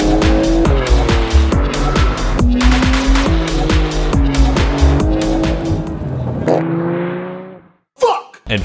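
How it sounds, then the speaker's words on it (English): A Porsche 992 Turbo roars close and loud, its engine climbing repeatedly through rising revs with sharp gear shifts. Tires squeal as it goes, then the engine note drops and the sound cuts out into a brief, scrappy tail. "the Porsche 992 Turbo"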